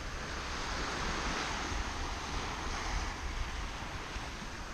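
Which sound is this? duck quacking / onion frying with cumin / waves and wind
waves and wind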